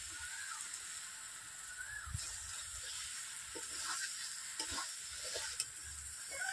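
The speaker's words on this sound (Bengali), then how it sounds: "এঁচড়টাকে অল্প অল্প জ্বালানি দিচ্ছি আর এঁচড়টাকে আমি নেড়ে নিচ্ছি।" Young jackfruit fries over a low flame in a wok, a soft continuous sizzle with occasional scraping stirs from a spatula, fairly quiet and with no one speaking.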